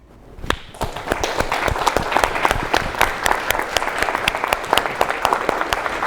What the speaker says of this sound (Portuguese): eu quero pedir uma salva de palmas para todo mundo pelo nosso esforço